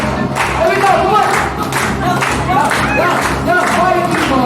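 At a birthday party, a crowd claps along to music, with steady, dense clapping running throughout beneath voices and singing.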